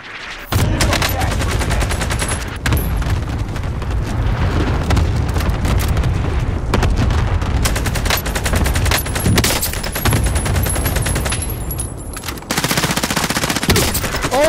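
Dense, loud video game gunfire with rapid automatic bursts and individual shots cracking almost continuously over about fourteen seconds, with a few brief gaps.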